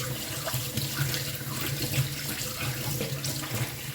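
Running tap water splashes steadily over a new stone mortar and pestle as it is rinsed clean in a sink, a continuous close flow with small irregular splashes.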